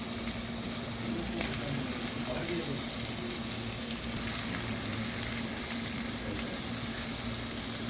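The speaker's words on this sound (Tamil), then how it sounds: "இது நல்லா வதக்கணும். வெங்காயம் நல்லா வதங்கிட்டு" Onions and tomatoes sautéing in a pan with ginger and garlic, giving a steady dense sizzle throughout with faint scraping, no voices.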